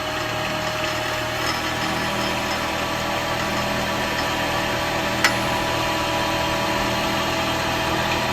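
A wood lathe spins a rotten tree branch at raised speed for spindle turning on end grain, giving a steady, even motor hum throughout with one brief sharp click near the end.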